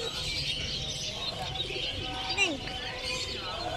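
Caged birds chirp and coo at a busy bird market in Surabaya, Indonesia, a dense chorus of overlapping calls and tweets under general crowd murmur.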